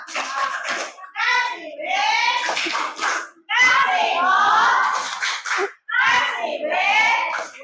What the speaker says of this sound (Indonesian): Kita kasih tepuk wow ke kelompoknya Nurin.